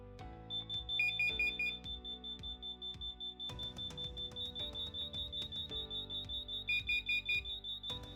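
Several interlinked LINKD smoke, heat and carbon monoxide alarms sound together in a home, overlapping high-pitched repeating electronic beeps in rapid pulsing bursts, loud and close, no talking.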